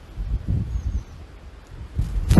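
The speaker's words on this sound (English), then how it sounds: "It's so windy out here." Gusty wind blowing outdoors during oak leaf gathering in spring, rumbling in low buffets against the microphone and rising to a louder gust at the end.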